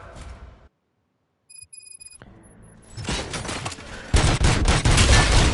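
Rapid bursts of gunfire in the video game RoboCop: Rogue City, dense loud volleys building after a brief silence and electronic beeps, growing heavier toward the end.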